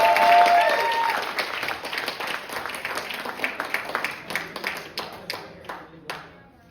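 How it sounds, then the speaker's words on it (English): An audience at a youth bike awards night claps warmly, loud at first and then thinning into scattered claps that fade out. "Let's give them a round of applause."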